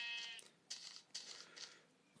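Sheep bleating in Minecraft, a few short, faint bleats spaced apart in a quiet setting.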